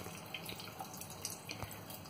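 Cold water running steadily from a household tap in an apartment, a faint, even trickle with a few small splashes, heard quietly and alone.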